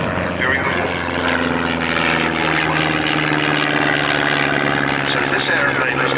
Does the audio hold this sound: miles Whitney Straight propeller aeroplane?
yes